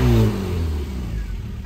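A modified 1275cc Mini engine in concours condition revs hard up close, its loud note then falling away and settling toward a lower, steadier drone, with no voices over it.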